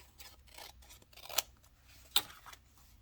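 Scissors cutting through fabric while sewing a waterfall pocket: soft, close snipping and sliding blade sounds with two sharp, louder clicks, quiet and alone without speech.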